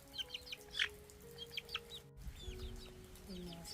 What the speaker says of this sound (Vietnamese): Mấy con gà này khỏe mà đẹp quá.